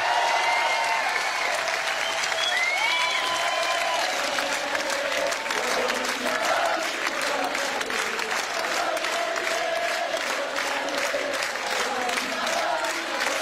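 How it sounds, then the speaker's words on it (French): A television concert audience gives a gospel choir a long, dense round of applause, steady and loud throughout, with faint cheering and stray voices rising through the continuous clapping. "j'aimerais que vous applaudissiez, pardon, très fort, le groupe de la chorale de gospel qui nous a accompagnés ce soir"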